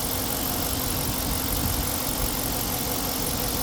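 A 2014 Dodge Charger Pursuit's 5.7 Hemi V8 with 79,000 miles running at a steady idle, a loud, close, even rumble with a faint mechanical tick and no voices over it.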